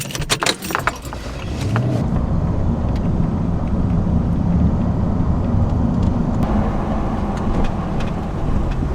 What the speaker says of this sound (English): I am gonna go ahead and take it for a test drive